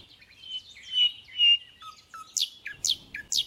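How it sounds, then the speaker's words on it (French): Birds sing near and clear, with drawn-out whistled phrases followed by a run of quick, bright chirps, with no other sounds around them. "ces sons merveilleux de chants d'oiseaux"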